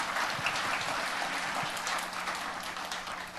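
A congregation applauds during a Korean church service: dense, continuous clapping that fills the room at an even level for the whole stretch.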